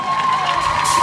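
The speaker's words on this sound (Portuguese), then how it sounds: "família Forges Valfigueira, família Rossi, grande aplauso para eles aqui em cima do palco." Birthday party audience cheering and clapping for a family up on stage, a dense, loud burst of crowd noise with whoops that fills the whole short moment.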